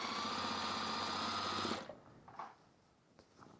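Sewing machine stitching a seam across the top of a handbag: a steady, close mechanical whir with rapid needle clatter that stops abruptly midway, followed by faint handling sounds.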